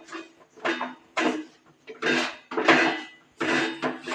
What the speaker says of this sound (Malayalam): നന്നായിട്ട് ഇളക്കി എടുക്കട്ടെ.